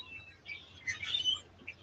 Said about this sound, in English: The birds are noisy.